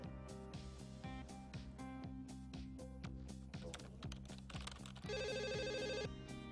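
A SIP desk phone on a Nortel/Avaya office communication system rings, and its electronic trill comes in clearly near the end. Softer rhythmic clicks and tapping run beneath it.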